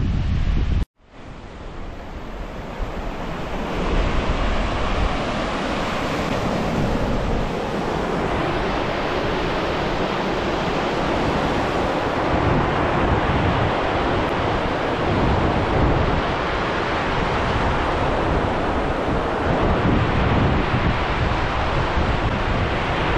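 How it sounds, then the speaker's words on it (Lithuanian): Sea waves rolling onto the beach at Šventoji on the Lithuanian coast, with a steady roar of surf and gusting wind buffeting the microphone, loud and continuous after a brief opening thump, no voices. "O jau šiandien va matos ir bangų."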